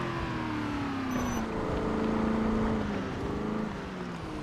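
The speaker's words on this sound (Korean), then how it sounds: "배기음이 너무 심해갖고" A car with very loud exhaust noise, a heavy droning engine rumble that swells and eases steadily, close and continuous, with no talking.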